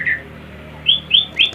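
A white-rumped shama (murai batu) sings a few short, bright whistled notes, loud and near, with quiet gaps between them and no talking.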